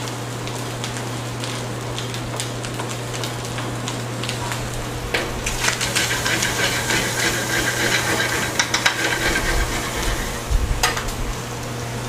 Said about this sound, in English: I'm going to go ahead and add the onion and garlic